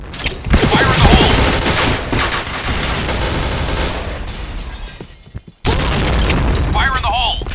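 Grenade blast and bursts of rapid gunfire in the shooter game Point Blank, loud and dense throughout, with a sharp explosion near the end and a brief in-game voice callout.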